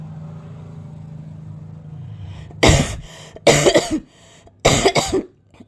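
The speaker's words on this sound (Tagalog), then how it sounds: "Inuubo pa rin ako, guys." Three loud, close coughs in a row, evenly spaced, following a low engine-like hum that fades beforehand.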